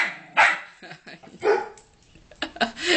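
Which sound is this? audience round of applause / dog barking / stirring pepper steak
dog barking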